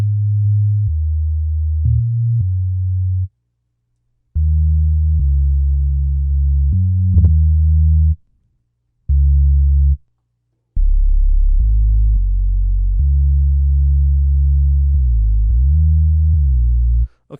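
A soft Omnisphere 2 synth patch with a modulation chorus effect plays a run of sustained low notes and short phrases, loud and close, with a few brief gaps of silence and no talking.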